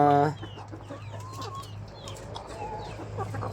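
Silkie and native mixed-breed chickens cluck and chirp softly, scattered short calls over a low background hum, with a brief louder sound at the start.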